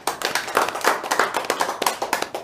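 A crowd claps at an Onam celebration, a dense, steady patter of many hands sustained throughout with no talk over it.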